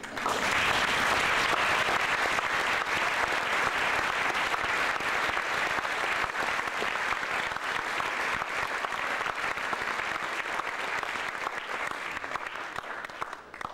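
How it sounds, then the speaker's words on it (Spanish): An audience at a book presentation breaks into long, dense applause, a continuous wash of clapping that stays steady for over ten seconds before thinning slightly at the end. "Un aplauso para Turing."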